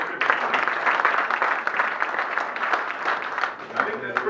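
A meeting audience applauds a new chancellor at a Rotary gathering, a dense, sustained wash of clapping from many hands lasting the whole moment, fairly close and loud.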